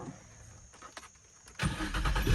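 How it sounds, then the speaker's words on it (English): Nissan 350Z with a manual gearbox starting up: a brief quiet crank, then the engine catches and settles into a loud, steady rumble close by. "Now, let's get in the car, start it. Let's see how it runs."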